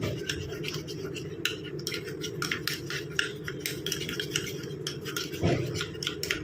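A spoon or utensil stirs a paste of wheat flour and potato juice for a face cream, making steady, rhythmic scraping and rubbing strokes close up without pause.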